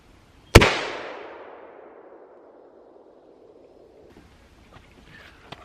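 A single loud gunshot fired at a target outdoors, one sharp crack followed by a long rolling echo that fades over several seconds, then faint small noises and no talking.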